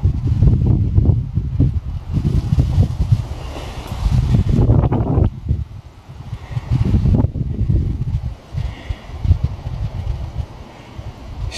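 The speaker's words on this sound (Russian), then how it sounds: "Ветерок здесь, конечно." Strong gusty wind on the rocky summit of Mount Stolby in the Southern Urals buffets loudly in waves, roaring up and easing off repeatedly, with heavy rumbling on the microphone.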